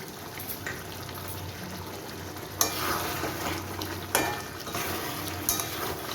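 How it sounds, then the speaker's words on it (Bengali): Lemon juice and burnt lemon peel go into frying chicken, setting off a loud continuous sizzle, with a few sharp bursts as liquid hits the hot pan. "এই পর্যায়ে আমি লেবুর রসটা দিয়ে দিচ্ছি আর এই যে খোলাটা যে পুড়ে রেখেছিলাম ওইটাও দিয়ে দিচ্ছি"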